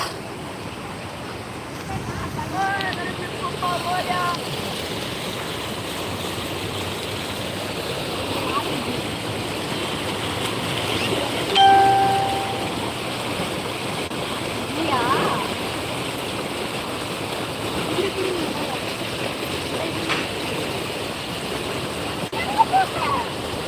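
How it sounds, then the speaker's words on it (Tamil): Rushing water of a waterfall at Krishnagiri forms a steady broadband roar throughout, with people talking over it nearby. "என்ன அந்த தண்ணி சவுண்டு"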